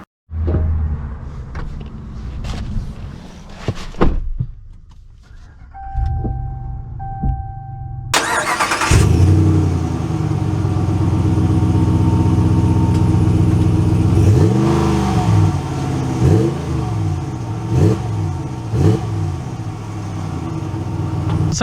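A few soft clicks and thuds, then a 2022 Ram 1500 Rocky Ridge K2 pickup truck engine cranks and roars to life, revving up and down as it pulls away, loud and close.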